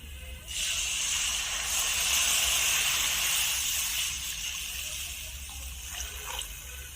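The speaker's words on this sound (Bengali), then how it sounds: "এখন আমি গাই দুধ দিয়ে দেব।" Cow's milk poured into vermicelli fried with cashews and raisins, a steady hissing, splashing pour that runs for several seconds and eases slightly near the end, close by with no talk.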